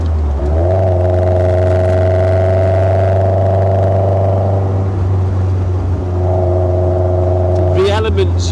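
A Westfield SEiW kit car drives on the road with a steady, loud engine drone and constant road noise and vibration, the pitch holding, easing off, then rising again near the end.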